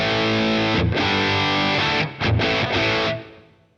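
Heavily distorted high-gain electric guitar from a Boss Katana Gen 3 head plays chords drenched in spacious hall reverb, ending with a long reverberant tail that fades out.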